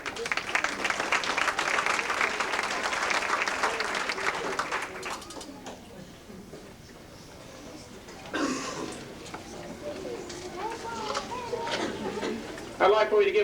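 Applause from the crowd at a 1995 football awards banquet in Milan, a dense sustained clapping that fills the room for about five seconds, then fades; later, scattered clapping and crowd noise return before a final loud burst.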